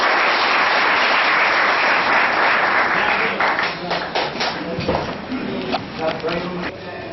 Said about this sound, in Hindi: इसलिए जोरदार तालियों के साथ सभा की समापन।